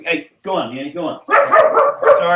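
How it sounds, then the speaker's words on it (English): A dog barking indoors: short, sharp yips and barks in quick bursts, mixed with a person speaking to it nearby. "Sorry, that's my dog barking."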